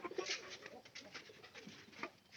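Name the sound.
pigeons cooing in loft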